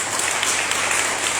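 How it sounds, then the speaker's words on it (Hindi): An audience at a Christian worship gathering breaks into loud applause, a dense, even burst of many hands clapping close by, with no speech over it. "एक बार जोरदार ताली प्रभु"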